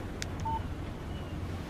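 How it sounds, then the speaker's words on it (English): A phone in Alan Wake Remastered gives a short electronic text-message tone, a brief clean beep over a quiet windy hush. "Text message from Barry."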